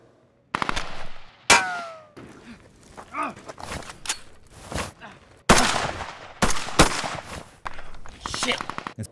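A voice imitating gunshots for Foley on an action-scene sound mix, a string of sharp percussive mouth bursts and clicks in irregular clusters, close and fairly loud.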